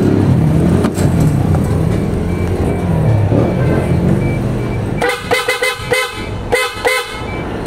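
Loud horn honks in short bursts near the end, several rapid blasts of 24-volt PIAA-style horns on an Isuzu Elf mini truck, after a stretch of engine rumble and background noise.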